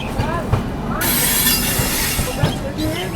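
Paschim Express train at platform 3, wheels squealing and cars rattling close by in a loud, continuous rush of rolling stock, with a brief voice in the mix.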